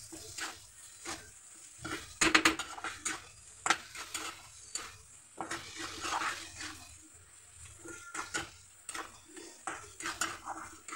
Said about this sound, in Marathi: साखर टाकून कमी गॅस राहू द्यायचा आणि असं खालीवर करत राहायचं